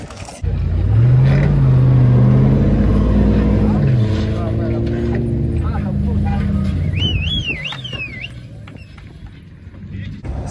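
A Ford Raptor pickup's engine drones and strains as it pulls a stuck truck and trailer out on a rough off-road track, its pitch rising and falling, with a brief high squeal late on.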